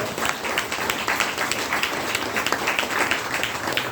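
An audience at a health training programme applauds, a dense, steady patter of many hands clapping together at moderate loudness for the whole stretch.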